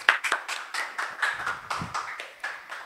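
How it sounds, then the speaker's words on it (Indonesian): Audience clapping at an Indonesian talk show: a quick burst of steady, fairly loud applause sustained for about three seconds, with no voices over it. "Kita tepuk tangan dulu dong."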